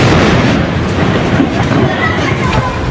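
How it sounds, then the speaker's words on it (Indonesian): A loud, continuous roar of rumbling blast noise fills the clip, dense and heavy without clear breaks, like a large building explosion and its aftermath in Gaza City. "Rekaman video menunjukkan dahsyatnya ledakan bangunan di kota Gaza."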